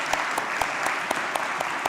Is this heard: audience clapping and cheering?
yes